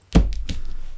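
A deck of oracle cards is cut on a table, giving a quick soft thunk followed by a second lighter tap, close and brief with no voices.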